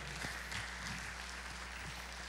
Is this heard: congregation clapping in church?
yes